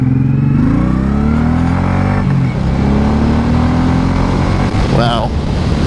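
A 2024 Suzuki M109R motorcycle accelerating hard on a highway from a slow roll in first gear, its engine winding up loud and close with rising pitch and a gear change, while a rider talks over it.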